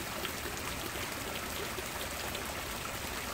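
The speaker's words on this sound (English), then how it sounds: "LED remote control fountain. Has three fountain heads. Changes up and down." An Oase LED remote-controlled garden fountain with three heads sprays water three to four feet high, a steady close hiss of falling spray and splashing with no pauses.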